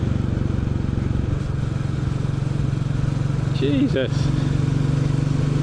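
Royal Enfield Bullet 350 motorcycle riding on a road, its engine a steady low drone with wind rush throughout, and a voice briefly exclaiming near the end.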